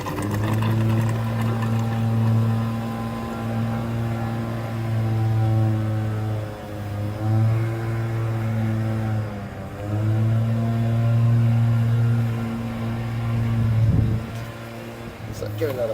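A Mityvac MV7201 fluid evacuator draws oil out of a generator with a steady low hum and soft gurgling, running continuously with slight dips, close by and fairly loud.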